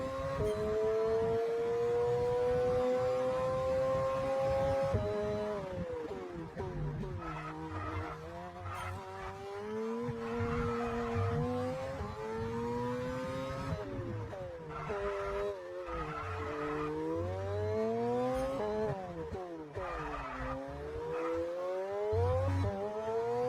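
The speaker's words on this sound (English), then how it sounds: "enjoy the engine sound" Supercar engine in F1 22 screams through rising and falling revs with gear shifts, long high-pitched sweeps broken by brief drops, loud and close throughout with no talking.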